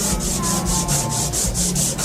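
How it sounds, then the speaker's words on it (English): Painted bathroom cabinets are sanded back by hand in quick, even back-and-forth strokes, a loud close rasping rhythm of about four strokes per second with no voices. "And now we're sanding it back down again."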